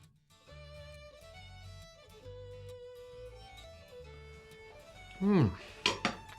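Cutlery cutting into a freshly baked onion pie, heard as a few sharp, bright clinks and scrapes of metal on a dish near the end, following a stretch of soft music.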